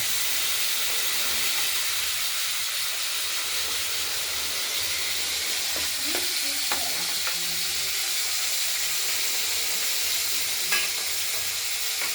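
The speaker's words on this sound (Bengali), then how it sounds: "এবার এই কেটে রাখা আলুগুলোকে ভেজে নেবো" Steady, close sizzling of potatoes and beans frying in hot oil, with a few clinks and stirring sounds; no talking.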